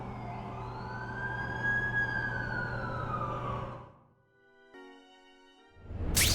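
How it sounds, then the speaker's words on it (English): Ambulance siren in The Amazing Spider-Man 2 video game, a loud, steady wailing tone that sweeps up and down for about four seconds, then cuts out to a brief electronic beeping before a sharp noise burst. "That's the ambulance I called."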